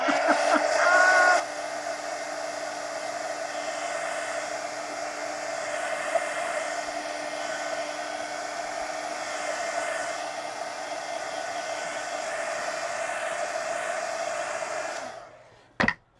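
A hair dryer blows on a freshly made drawing with a steady, continuous whoosh that lasts about fifteen seconds. It is loud and close, then switches off near the end.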